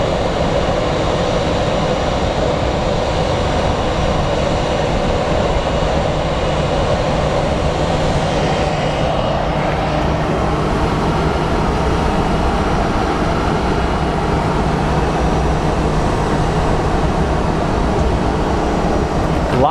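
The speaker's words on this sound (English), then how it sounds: "The reverse thrusters are on." An airliner's reverse thrust at Sky Harbor International Airport makes a loud, steady, broadband roar that holds without a break for about twenty seconds.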